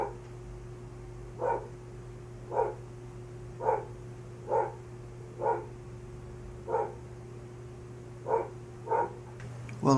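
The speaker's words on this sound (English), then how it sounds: "All he's doing is barking." A dog barking outside, about eight evenly spaced single barks, somewhat distant and moderate in loudness over a steady low hum, with no talk during the barks.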